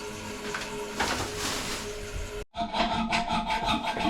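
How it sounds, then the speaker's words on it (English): Toilet bolts being cut off during a toilet installation, a steady rasping, sawing scrape that runs continuously, breaks off briefly, then resumes in quick rhythmic strokes, fairly close. "we can cut the bolts"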